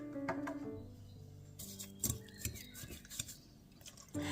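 Cottage cheese is mixed with eggs, salt and vegetable oil in a bowl, with scattered close clinks and scrapes of a utensil against the dish, faint and irregular, no voices.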